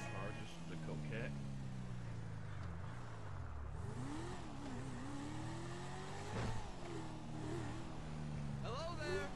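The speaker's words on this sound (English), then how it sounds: "Pretty cool sound of the engine on one of my sports cars." A Coquette sports car engine in Grand Theft Auto V revs and drones continuously, pitch rising and falling as it accelerates, with synthetic game-like tone and steady loudness.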